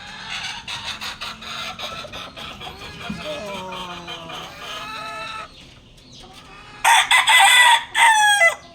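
A backyard rooster, a young stag, crows loudly and close by in several strained, wavering calls, while other fowl cluck and someone talks in the background.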